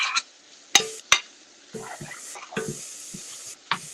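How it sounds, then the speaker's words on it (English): A spoon scraping back and forth across the bottom of a pot of tomato vegetable soup, giving a few sharp scrapes followed by softer rubbing strokes, close by and with no talk. "you can just scrape the bottom of the pot with your spoon"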